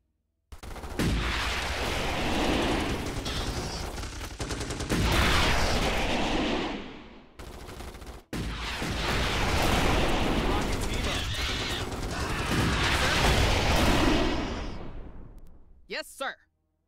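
Sustained rapid gunfire and artillery blasts from a Starship Troopers: Terran Command battle, dense and loud for several seconds, a brief lull, then another long barrage that fades out with a few sharp final bursts; voices are mixed in.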